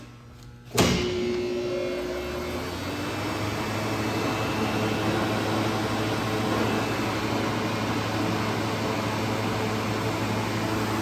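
A Darrah 3000 amp 10 volt industrial rectifier starts with a sharp clunk, then runs with a steady electrical hum and fan-like whoosh, even and continuous at close range with no talking.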